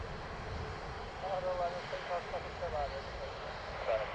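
An Aer Lingus airliner from Amsterdam rumbles at Dublin Airport, a steady, moderately distant engine roar with a faint whine, while a person talks over it.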